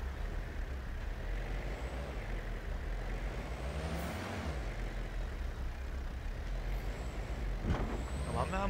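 A car drives in the hunting game Way of the Hunter, a continuous low engine rumble with occasional hissing bursts and a brief clatter near the end, steady and moderately loud throughout.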